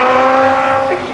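A race car accelerating on the Ringwood Park track, a loud close steady engine drone with a rising tonal whine, easing slightly near the end.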